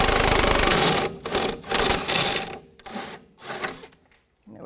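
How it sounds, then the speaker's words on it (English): Socket and wrench working a stuck bolt on a Jeep Liberty, heard as close, loud bursts of metallic ratcheting and grinding in uneven spurts with brief pauses between strokes. "I'll put the socket on and I'll put a wrench in."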